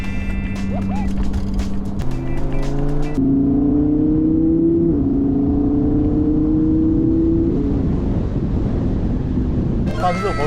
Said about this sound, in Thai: แต่พอเป็นโหมดสปอร์ต ปุ๊บดูนะ โอ้โหเสียงมาเลย